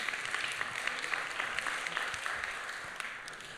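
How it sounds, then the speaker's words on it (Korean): Young adults' church congregation applauding steadily to welcome a newcomer, even crowd clapping at moderate distance that continues throughout without talk. "모두 환영의 박수 한번 부탁드립니다."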